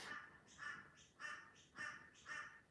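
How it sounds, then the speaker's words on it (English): Crows caw in a series of about five harsh, evenly spaced calls outdoors, some in quick pairs, at moderate distance and fairly faint, with no talk over them. "That sounds like the crows are back."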